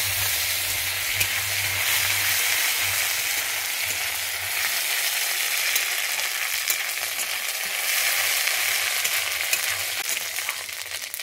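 Ginger paste sizzles steadily in hot oil while being stir-fried for a Bengali vegetarian giant taro curry, a close, continuous bright hiss with faint scraping and no voices.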